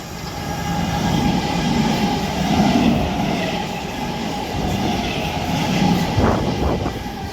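Two Class 455 electric trains pass at Raynes Park with a steady rolling rumble and rattle, loud and close throughout, swelling slightly in places, with a couple of brief sharper clanks near the end.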